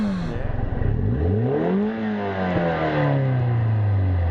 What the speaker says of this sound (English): You can rev it up if you want. You won't break it. Just twist it that way.